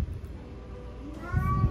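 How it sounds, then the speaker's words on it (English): A cat lets out a single rising meow near the end, heard over a low background rumble in a workshop where silicone and naphtha are being mixed. "don't mind the cat"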